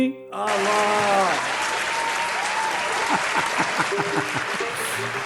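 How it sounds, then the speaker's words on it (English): After a brief bit of singing, a small group claps on a talk show, the applause dense and lively with voices calling out over it. "I love the claps."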